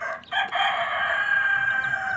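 A chicken crows in a long, sustained call with a brief clucking note before it, loud and close against a faint farmyard background.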